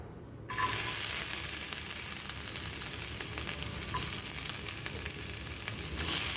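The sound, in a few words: garlic frying in oil with mustard and cumin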